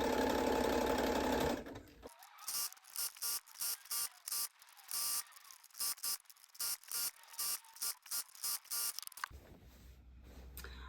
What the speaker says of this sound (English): So we're just going to zigzag over the edge.